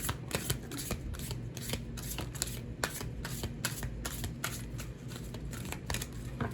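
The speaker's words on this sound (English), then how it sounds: "I've seen the Ten of Swords multiple times as I've been shuffling" Tarot cards are shuffled steadily up close, giving continuous papery riffling with rhythmic flicks and snaps repeating over several seconds. No one speaks.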